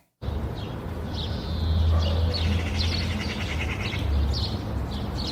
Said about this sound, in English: Let's do distant coastal birds over quiet shoreline.